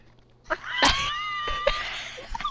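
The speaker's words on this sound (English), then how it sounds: "Why does that snore? Why does it sound like dubstep?" A Minecraft snore with warbling, wobbling tonal bands like a dubstep wub, rising and falling over a couple of seconds between sharp clicks, fairly close and clear.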